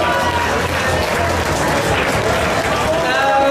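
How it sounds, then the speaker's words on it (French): A crowd claps in a dense, continuous patter of applause at an agricultural show's animal competition, steady and fairly loud throughout, with a faint murmur mixed in. "Allez, vous pouvez applaudir bien fort, s'il vous plaît. Alors, on s'applaudit."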